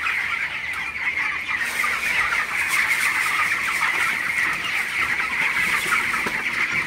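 A crowd of broiler chickens clucks and chatters continuously, loud and close, a steady busy din of many birds with no talking.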